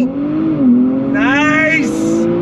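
A 2023 Nissan Z launched at full throttle, its engine note rising and pulling hard through the revs, loud and close, with a brief higher tire or drivetrain whine partway through.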